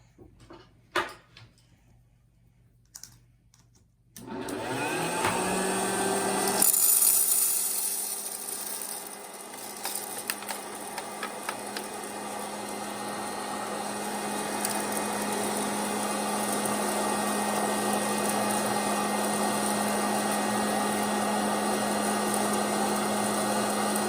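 An electric hot-air popcorn popper switches on and runs with a loud, steady whirring roar that fills the room, a few faint clicks and pops scattered through the constant blower noise.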